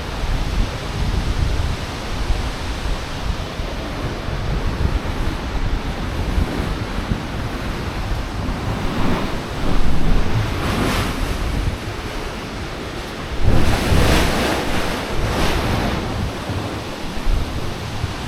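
Roaring rush of water at Niagara Falls, a broad continuous wash mixed with wind buffeting on the microphone, with two louder surges partway through.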